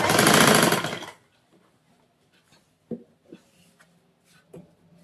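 A standard domestic sewing machine stitches cord piping along a neckline in one loud, rapid whirring burst of about a second, followed by near silence with a few quiet taps and handling sounds.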